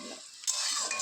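Prawns hit a hot pan and burst into a loud hissing sizzle partway through, after a brief scrape of stirring, close to the listener and with no talk.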